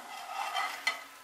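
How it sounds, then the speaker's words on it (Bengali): A spring onion paratha fries on low heat in a pan, making a soft, steady, faint sizzle with one brief sharp tick near the end. "আঁচটা কমিয়ে দিয়েই ভাজছি"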